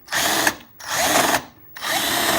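A power drill countersinking holes for an electric skateboard whirs in three bursts, each spinning up loudly for about half a second to a second, with brief quiet gaps between.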